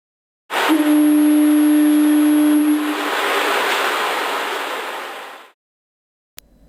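A lighthouse foghorn in a railway simulation game sounds once with a low, sustained tone over loud crashing ocean surf, then the waves fade away into silence.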